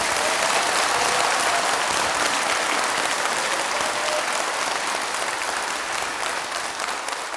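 A temple audience at a Buddhist Dharma talk in Busan applauds in a dense, sustained wash of clapping that holds steady at moderate distance for several seconds.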